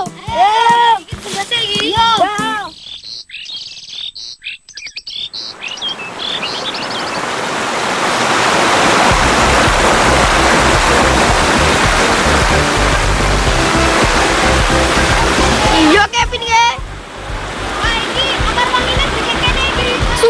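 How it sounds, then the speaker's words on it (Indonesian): River water flows in a steady, full rushing wash, with people talking at the start and again near the end. "Sungai desaku bagus kan teman? Airnya masih jernih dan dingin."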